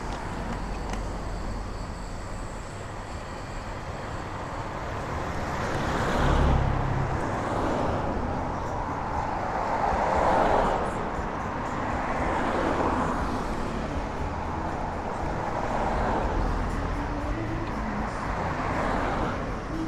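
Steady hum of street traffic in Soi Honey (Soi 11) near Soi Buakhao, with cars moving close by and a louder swell as one passes midway, over a constant roadway wash.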